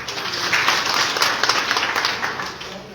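An audience at a village panchayat awareness gathering claps together for a guest, a short burst of dense applause that swells slightly and then holds before tapering.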